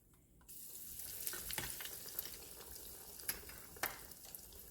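Quiet, steady sizzle of cheese curds dropped into hot oil, starting softly with occasional small pops and crackles rising above the bubbling.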